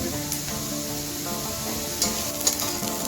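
Onion fries in a pan while being browned to a reddish colour, with a loud, continuous close sizzle and crackle and a couple of brief spatters, with no talking.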